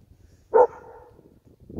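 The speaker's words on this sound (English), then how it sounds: "she's 81-pound dog and she's almost swimming in it" An 81-pound dog playing in deep snow in northern Maine gives a single short bark, close and clear, then goes quiet apart from soft rustling.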